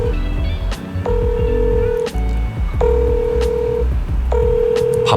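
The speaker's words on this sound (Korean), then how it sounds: "그래서 한번 전화를 해보도록 하겠습니다" Phone call being placed: a quick run of keypad dial tones followed by repeated ringback tones in even, spaced pulses, loud and close.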